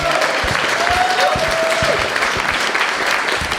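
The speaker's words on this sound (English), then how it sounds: "yourselves a round of applause." Live audience applause at a podcast recording in Germany, a steady dense wash of clapping from a room full of people, loud and sustained throughout with a faint voice briefly underneath.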